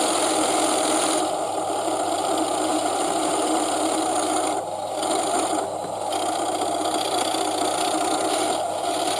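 A TTS sound decoder in a model Bachmann Class 37 diesel locomotive, played through an iPhone speaker, produces a steady idling diesel drone, constant and close with no voices.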